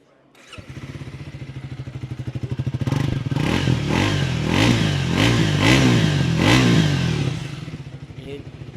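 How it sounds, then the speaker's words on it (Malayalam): A 2025 Triumph Speed 400 motorcycle fires up and its exhaust revs repeatedly, rising and falling in loud, close blips before settling back to idle. "അപ്പോൾ ഞാൻ ജസ്റ്റ് എക്സോസ്റ്റ് നോട്ട് ഒന്ന് കേൾപ്പിച്ചു തരാമേ."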